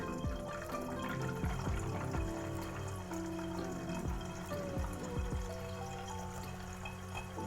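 A small pump pushes water through an automatic orchid watering system, with continuous trickling and gurgling of water filling and dripping, steady and fairly close throughout.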